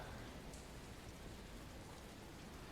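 A steady downpour fills a rainstorm scene in the video game The Evil Within, a constant dense wash of rain with no pauses and no voices, soft and even throughout.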